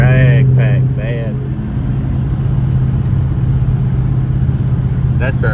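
Supercharged 2018 Mustang S550 Coyote V8 with active exhaust, X-pipe and long-tube headers, rumbling steadily at a low idle-like drone, with people talking briefly over it at the start and end.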